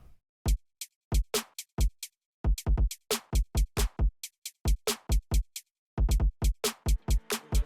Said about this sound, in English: And then the drums together just sound like this.